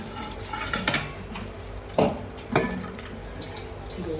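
Small cleaned fish are rinsed in a pot of water, giving soft sloshing and a few distinct splashy clinks against the vessel, close and moderately quiet.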